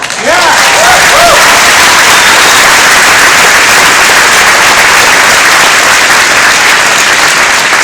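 Applause from the audience at a Senator Elizabeth Warren rally in a high school, loud and sustained dense clapping throughout. A few voices call out at the start.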